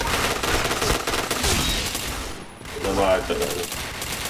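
Gunfire from the shooting video game Point Blank crackles in dense bursts through the first half and again near the end, with a short lull in the middle and brief voices heard underneath.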